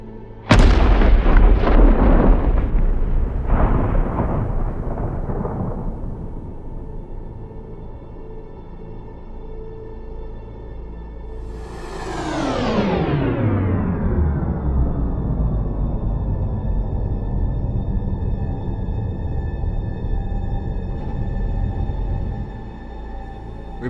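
A hunting rifle fires a 180 grain bullet at a stag during the deer roar. One loud, close blast rolls into a long echo across open country, followed later by a sweeping, falling whoosh.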